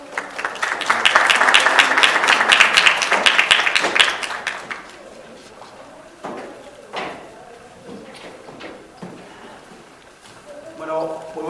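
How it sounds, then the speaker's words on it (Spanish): Applause from a conference audience at a world political communication summit swells loudly for about four seconds, then fades into scattered claps and room noise, with a voice starting to speak near the end. "Un fuerte aplauso, por favor."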